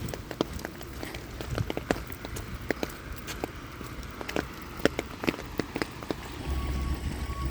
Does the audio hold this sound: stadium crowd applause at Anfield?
no